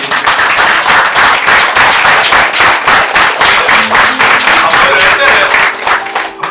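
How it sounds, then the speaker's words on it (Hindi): A meditation audience breaks into loud, sustained applause, with dense rhythmic clapping close by that carries on for several seconds before thinning slightly at the end. "तो उनके लिए तालियां होनी चाहिए।"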